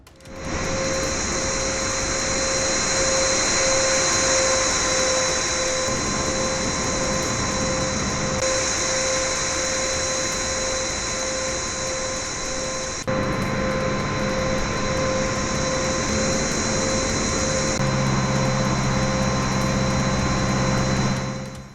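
An Air China Boeing 767-200ER jet airliner, delivered in 1985, drones steadily in flight with a continuous broadband engine roar and a whining tone, unbroken throughout with no voices.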